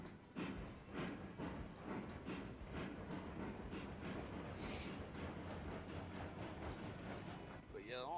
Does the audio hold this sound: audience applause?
no